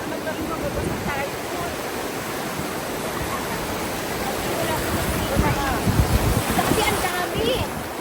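Ocean waves wash onto the beach at Oarai, Japan in a continuous rushing surf that swells louder near the end, with people talking over it.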